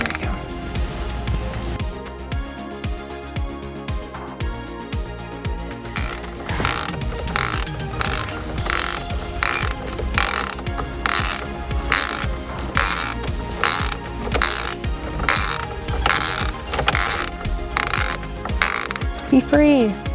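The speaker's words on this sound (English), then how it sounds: "I then remove the steering wheel retaining nut, which requires a 21mm socket." A hand ratchet with a 21mm socket turning the steering wheel retaining nut on an 1980s GM car, giving a steady run of loud, evenly spaced clicks that continue for over ten seconds, with some speech heard in the clip.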